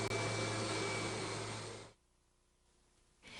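Kirby G4 upright vacuum cleaner with Tech Drive power assist engaged, a loud steady motor whine and rush of air that drops sharply to a quieter hum and then rises again near the end.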